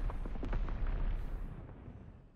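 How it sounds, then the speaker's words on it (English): Enemy mortar fire in a Call of Duty battle: a deep, rumbling explosion with a low boom and debris-like crackle that swells, then slowly fades away, fairly distant and not loud, with no talking. "Enemy mortar fire incoming"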